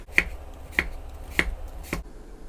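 Four crisp, evenly spaced knife chops as a blade cuts through a peeled onion on a cutting board, close and fairly loud, then quiet.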